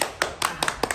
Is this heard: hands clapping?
yes